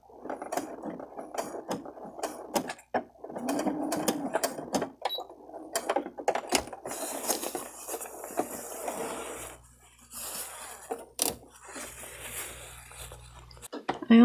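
A sewing machine fitted with an invisible zipper foot runs in short, clattering bursts to lock a seam stitched close to a zipper, with a voice speaking now and then over it.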